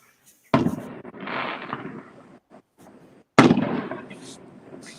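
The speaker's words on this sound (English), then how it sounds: "Are they like the big, pretty fireworks?" Distant fireworks go off in two separate bursts a few seconds apart, each a sharp boom trailing into a rumbling, crackling decay across an otherwise quiet night.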